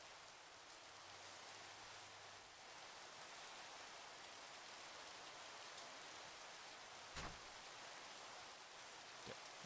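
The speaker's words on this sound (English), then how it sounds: "dang it, it's raining." Steady rain patters continuously on a surface, fairly faint, with an occasional louder drop or thump.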